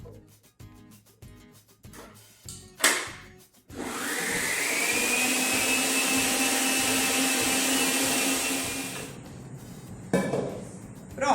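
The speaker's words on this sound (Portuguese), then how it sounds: "Só dar uma misturadinha aqui, o globinho mesmo da batedeira aqui, só para não voar" A stand mixer's wire whisk beats cake batter for a party confection, a steady loud whirring drone lasting about five seconds, with clinks and handling noises before and after.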